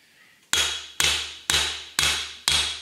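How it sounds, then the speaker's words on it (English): Hammer tapping a bearing into a Kawasaki 15F jet pump, five sharp, evenly spaced metallic strikes with short ringing tails, close and loud with no talking. "And you'll hear the hammer, you'll hear it change pitches when we bottom out."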